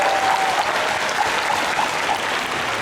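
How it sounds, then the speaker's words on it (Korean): A crowd at a Busan International Film Festival open talk breaks into loud, sustained applause with scattered cheers, dense and continuous across the whole stretch. "네, 큰 박수 부탁드립니다."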